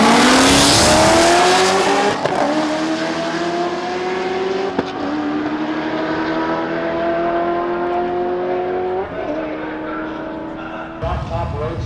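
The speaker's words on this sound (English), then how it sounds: "Racer cars, all my street racer class cars." Street racer class cars at a street car takeover drag race scream past, a loud engine note rising in pitch through gear changes, with tire noise and a sharp shift near the end, while someone talks over it.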